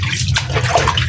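Water splashes and sloshes steadily as bitter gourd, soaked for over an hour in salted water, is rinsed in a basin, a brief close burst of wet swishing.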